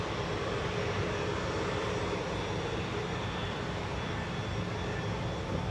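Airliner taxiing at Manchester Airport: a steady, broad jet engine roar that holds constant throughout, fairly distant and unbroken, with no voices.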